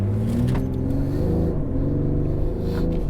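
A BMW X3 M40d SUV diesel engine revs and accelerates, its pitch climbing through several gear steps, loud and close with a deep rumbling tone.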